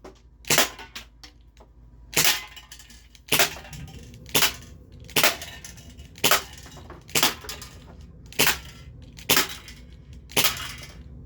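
Ruger P345 airsoft pistol, CO2-powered, firing BBs at an aluminum can: about eight sharp cracks spaced roughly a second apart, each a crisp snap with a short metallic ping, loud and near over a faint background hiss.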